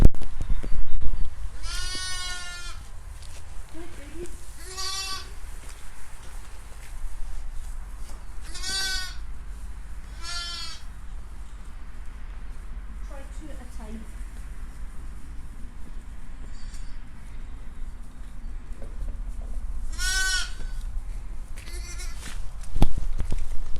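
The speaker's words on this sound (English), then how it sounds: "I'm going to go in and get the pet lambs, and we'll give them a feed because they're hungry" Hungry pet lambs bleat repeatedly on a farm before a feed, several loud wavering cries spaced across the stretch, some close and some farther off, over a low steady background rumble.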